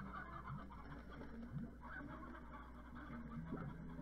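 Chickens cluck in the video game Slime Rancher, with short scattered clucks and chortles over a steady ambient game hum. The birds sound fairly faint and somewhat distant, with no talking.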